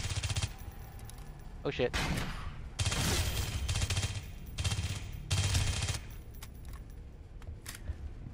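Gunfire bursts in a shooter video game, several loud broadband volleys spaced across the stretch with pauses between, while a player voice exclaims briefly over them.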